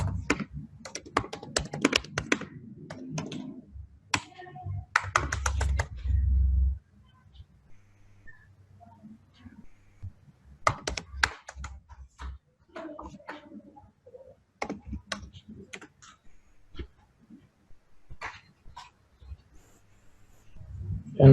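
Keys clatter on a computer keyboard in irregular bursts of typing, close and crisp, separated by quiet pauses while code is written.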